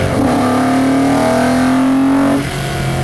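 A BMW Z8 Coupe engine pulls hard in second gear, a loud, close rising drone that climbs steadily in pitch for a couple of seconds before easing off as the revs drop.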